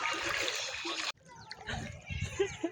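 People wading through deep floodwater, with close splashing and sloshing throughout, a brief break in the middle, then renewed splashes alongside voices.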